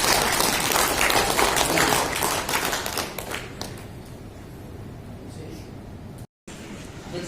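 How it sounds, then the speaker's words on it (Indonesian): At an installation ceremony, an audience breaks into loud, dense applause that gradually thins and fades over several seconds into a quieter room murmur, with a brief dropout near the end. "Tepuk tangan."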